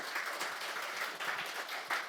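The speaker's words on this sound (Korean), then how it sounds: "우리 6여선교회에서 박수 한번 쳐주시죠." A women's mission group at a Friday prayer meeting in a church claps together, a brief, fairly soft burst of steady applause from a small crowd.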